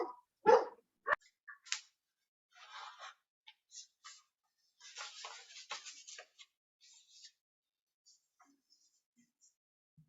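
A dog barks in a scattered series of sharp yaps and yelps, some close and loud, others fainter, with quiet gaps between bursts and occasional speech mixed in.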